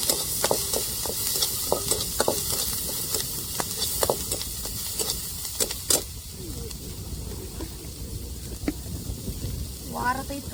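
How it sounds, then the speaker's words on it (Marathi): Onion sautés in a pan over an outdoor fire, a continuous sizzle and hiss with scattered stirring scrapes and clicks, near and fairly loud, with light background noise. "तो परत आपला कांदा बी व्यवस्थित परतोय."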